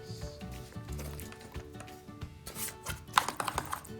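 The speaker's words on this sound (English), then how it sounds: "We're just going to chop that down, down again." A knife chopping a seedless cucumber on a board, a series of irregular soft cuts with a quicker run of sharper chops near the end, no voice over it.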